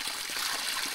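Cold spring water gushes and trickles steadily from an outdoor source, a close continuous hiss of flowing water without pause.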